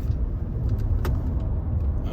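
A 2024 Lexus TX550h+ plug-in hybrid SUV driven briskly in sport mode on winding roads, heard from inside as a steady low road and engine rumble with tire noise and a few faint rattles.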